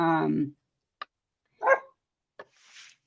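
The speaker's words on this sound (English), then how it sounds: "Oh, dog bark for confirmation." A dog barks a few times in short, separate bursts at moderate distance, following a brief stretch of voiced talk, with quiet gaps between the barks.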